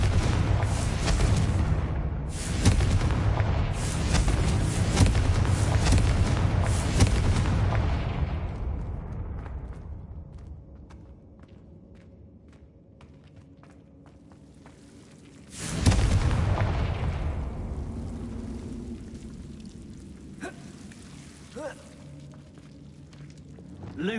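A Confringo blast spell fired in the game Hogwarts Legacy gives a loud booming burst, then a long rumbling decay, with a second sharp explosive hit later and some quieter effects after it.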